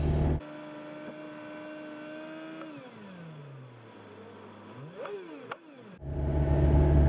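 A Lexus engine held at raised speed during a diagnostic check gives a steady, close mechanical drone whose pitch sags and then climbs again before a louder surge at the end, with no talking.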